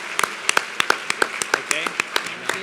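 A small gala audience at a philanthropy awards show claps in tribute, with sharp, scattered individual claps in an uneven rhythm and a voice audible underneath.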